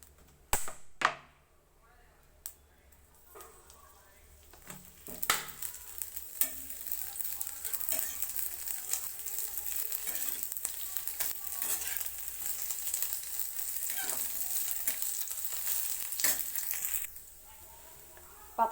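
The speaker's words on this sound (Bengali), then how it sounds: "এবারে আমি এর মধ্যে একটু সরষের তেল দিয়ে ভেজে নিচ্ছি পাতাটা" Neem leaves frying in mustard oil in a pan give a steady, close sizzle that builds and holds for most of the stretch, with a few sharp stirring knocks early on before it cuts off near the end.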